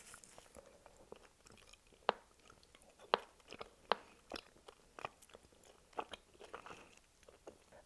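Close, soft chewing and biting of Haribo Sour Kick gummies, with a few sharper bites standing out among quieter, irregular mouth sounds and no speech.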